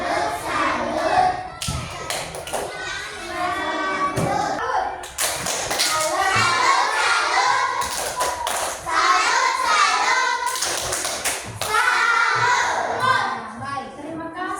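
Schoolchildren in a classroom clap through a rhythmic chant, sharp bursts of claps in a fixed pattern alternating with their chanted voices. The sound is loud and close, with some scattered taps and thumps.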